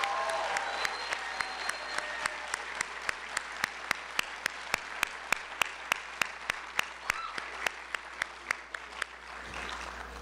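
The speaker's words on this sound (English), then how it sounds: "round of applause." Applause from a seated audience at a dentistry school white coat ceremony, a steady wash of clapping from a large crowd, with a few sharp, close individual claps standing out in a regular rhythm.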